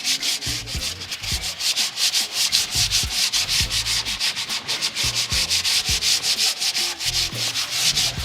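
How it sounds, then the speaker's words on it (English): Steady back-and-forth rasping of sandpaper lightly sanding a wooden dining table or chair, close up, in a continuous rhythmic series of strokes with no talking. "So we're just going to sand just lightly."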